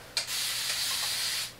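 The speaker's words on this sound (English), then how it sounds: "I'm just using like one of those awesome little spray bottles, the continuous spray bottles." A continuous-mist spray bottle wets hair indoors, letting out one steady, soft hiss that lasts over a second after a brief burst at the start.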